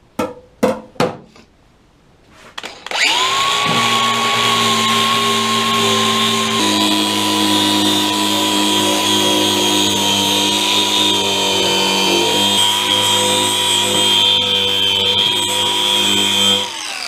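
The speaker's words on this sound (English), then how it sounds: "I'm gonna be sanding all of this down so I can cut this" Several sharp knocks come first, then a power sander starts up on a truck tailgate and whines steadily at close range for about fourteen seconds.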